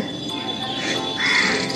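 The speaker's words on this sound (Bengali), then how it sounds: "কাক উড়ে যাচ্ছে, চারিদিকে পাখির কাকলিতে ভরে গেছে" A crow caws once or twice against a steady outdoor background at sunrise, moderately loud and fairly close.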